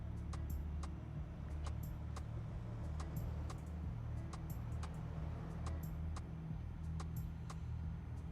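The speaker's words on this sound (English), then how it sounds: "That truck." A truck rumbles along outside in the early morning dark, a steady low engine drone that continues unbroken throughout with faint ticking above it and no speech.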